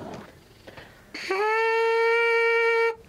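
A single steady buzzing tone from lips buzzing through a trumpet mouthpiece, bright and reedy, held for about two seconds close up after a brief rustle.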